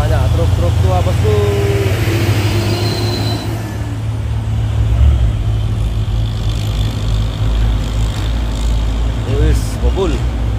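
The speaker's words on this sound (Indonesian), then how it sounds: "Truk tua bosku." An old truck rumbles loudly and close on a hill road at Bukit Kodok, with a deep steady engine drone throughout, a brief hiss near the start, and voices talking over it.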